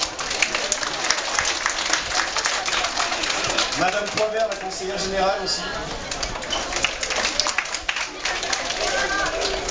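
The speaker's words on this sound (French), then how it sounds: "On peut l'applaudir aussi." An outdoor audience at a handball tournament applauds steadily while a voice on a loudspeaker keeps talking over the clapping.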